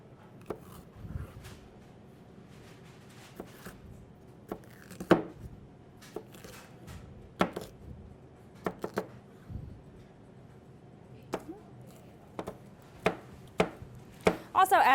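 Green peppers are chopped with a knife on a board in irregular sharp taps, some in quick bursts and others spaced apart, close and fairly quiet between strikes.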